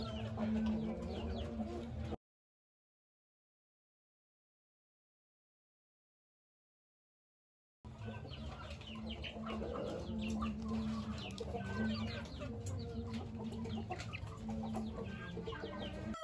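Young Bangkok chicks clucking and cheeping in a farm coop, a steady busy flock close by with short repeated calls, broken by a long silent gap partway through.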